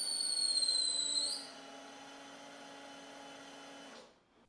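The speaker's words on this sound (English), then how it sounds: "And now I'm cutting out a plug of ebony to use for the fifth string nut." A small high-pitched power drill or cutter whines while cutting a plug of ebony for a banjo's fifth-string nut; a shrill tone drops to a steadier hum, then stops abruptly.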